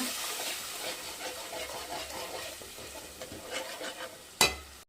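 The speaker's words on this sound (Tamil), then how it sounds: "போட்டு நல்லா பச்சை வாசம் போகிற அளவுக்கு வதக்குங்க" Ginger garlic paste sautéed in a pan for mutton gravy, with a steady soft sizzle and scraping stirs throughout, ending in a sharp utensil clank near the close.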